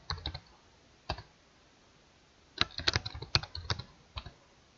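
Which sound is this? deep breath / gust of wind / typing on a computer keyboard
typing on a computer keyboard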